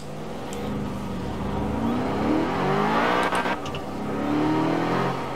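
A BMW M5 engine accelerates on a road with a rising, aggressive growl, building and easing over a few seconds, heard fairly close.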